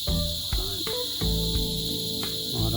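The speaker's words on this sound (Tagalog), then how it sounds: "maraming palaka" Insect-like trilling from many frogs after rain in a rural garden keeps up a dense, shrill, continuous chorus, with a few nearer croaks and clicks popping through the steady din.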